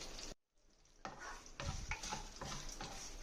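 Sliced beetroot with chili powder sizzles in oil as it is stirred and scraped in the pan, with a short silent gap near the start, then uneven rasping strokes over the frying hiss.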